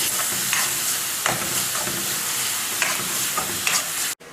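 Chilli powder and pepper powder sizzle in a hot pan while a spoon scrapes and stirs a few times, then the sound cuts off abruptly near the end.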